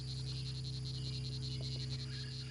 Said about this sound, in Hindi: इसने दुश्मन की ओर मुंह करके ऊंची आवाज में बार बार टर्राना शुरू कर दिया